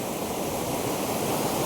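Mahogany Falls waterfall in Dingalan, Aurora, pours in a dense, steady roar of rushing water, close and continuous with no voices.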